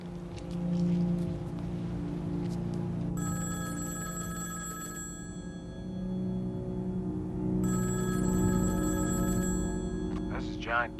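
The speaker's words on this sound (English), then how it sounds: "I'll phone Gacy just in case." Telephone ringing on an outgoing call, two long electronic ring bursts with a pause between them, heard through the handset over a low background drone.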